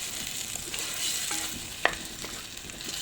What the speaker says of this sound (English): इसको अच्छा से हिलाएं